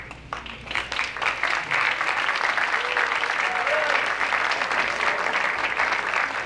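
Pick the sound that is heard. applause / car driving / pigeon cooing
applause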